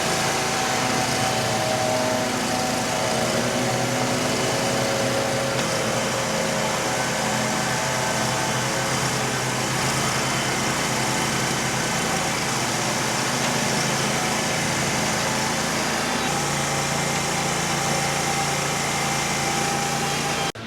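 A leaf blower runs steadily nearby for the whole stretch, a continuous engine drone with a hissing rush of air, loud and unbroken, with no talking.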